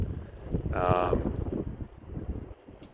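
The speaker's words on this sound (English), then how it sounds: "It is really windy" Strong wind buffets the microphone in a steady low roar on an ATV trail in Manitoba in October, with a brief voice rising over it early on.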